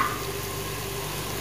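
Sliced onion with garlic-ginger paste fries in a pan, giving a steady, close, continuous sizzle for a short stretch without talking.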